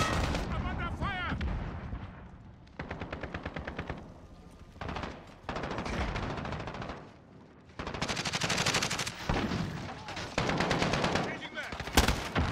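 Heavy automatic gunfire in a Call of Duty Modern Warfare multiplayer match, rapid loud bursts of rifle and machine-gun fire in several long stretches, broken by short lulls and occasional shouted callouts.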